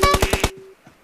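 Gunfire in the mobile shooter BGMI on the Livik map: a rapid burst of about five close, loud automatic shots in quick even rhythm, then abruptly cut off, leaving a faint tail.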